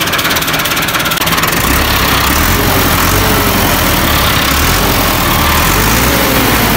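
A tractor engine runs close by with a loud, steady, throbbing drone, no voices over it.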